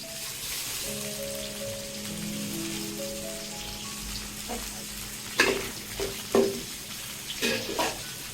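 Potato drops into a hot pan already holding cardamom, cinnamon and bay leaves for Bengali bhuna khichuri, and a steady close sizzle runs throughout. Louder scraping stir strokes come near the end.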